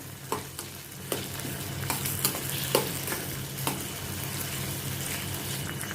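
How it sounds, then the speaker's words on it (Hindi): Cashew pieces cooking in a pan, a steady close sizzle with a handful of sharp clicks and scrapes from stirring. "इसमें मैं थोड़े काजू के टुकड़े डालती हूँ, कैशू नट्स। इन सभी को अभी मैं थोड़ा कुक करती हूँ।"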